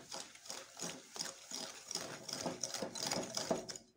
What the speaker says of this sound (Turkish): İyice çırpacağım.